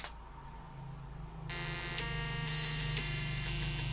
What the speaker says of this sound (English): that is 48k beeper music